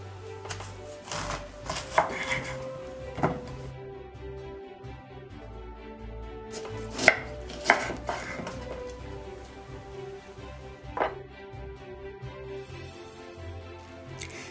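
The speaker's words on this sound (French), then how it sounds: "nous allons couper les citrons et les presser." Lemons being cut with a knife for lemonade, heard as a series of irregular knife knocks on a cutting board, some sharper than others, over a soft musical background.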